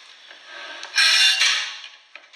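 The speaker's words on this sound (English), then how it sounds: "So we've trimmed this little bit off with a notcher" A hand notcher bites through mild steel with a short, harsh grinding crunch lasting about a second, preceded and followed by faint clicks, close and alone.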